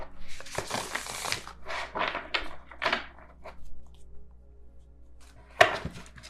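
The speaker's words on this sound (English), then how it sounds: "I'm going to try to shuffle" Light Seers Tarot cards being shuffled by hand: a run of soft papery riffles and flutters in quick bursts, close and fairly quiet, ending with a sharper tap near the end, with no talking.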